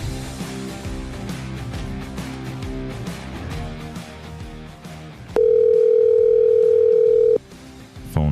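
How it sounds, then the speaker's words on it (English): A phone call rings out over backing music, with a loud steady ringback tone holding for about two seconds near the end before it cuts off. "Phone ringing."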